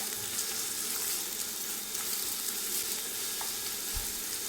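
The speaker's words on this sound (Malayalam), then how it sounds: "ഇനി ഇതൊന്ന് നല്ലതുപോലെ ഒന്ന് വഴറ്റിയെടുക്കാം കേട്ടോ" Sliced onion sautés in ghee and coconut oil in a pan, a soft, steady sizzle with faint scraping, heard alone at low level, with one brief knock near the end.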